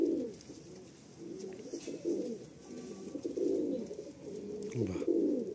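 Fulsira pigeons coo in a loft, a steady run of soft, throaty rolling calls from several birds close by, overlapping and continuous with no talk.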